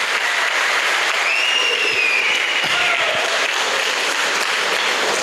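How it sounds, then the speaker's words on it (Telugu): An audience at a Vestige business training session applauds steadily for about five seconds, a dense, even wash of clapping with faint crowd murmur and a brief whistle-like tone drifting above it. "గట్టిగా చప్పట్లు కొట్టండి"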